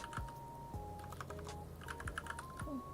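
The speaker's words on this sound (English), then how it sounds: "Okay, I don't want to forget about this, so let me type this in." Rapid, light clicks of a computer keyboard come in uneven bursts, close but soft, over a faint steady background tone.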